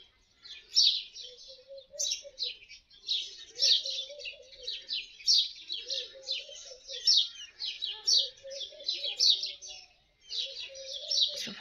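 Several birds chirp and twitter busily in bursts, high bright calls repeating over softer lower cooing notes, fairly close, with no talking.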